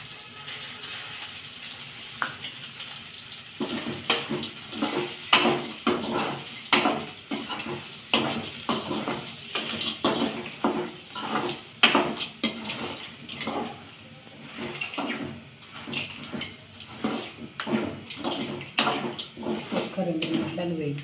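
Dried red chillies frying in a pan, with crackling sizzle and repeated rhythmic scraping bursts as they are stirred, and a voice speaking in places.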